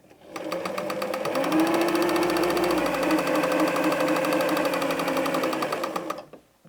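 A sewing machine stitches patchwork fabric pieces together in one continuous, loud run of rapid needle strokes lasting several seconds, starting and stopping cleanly.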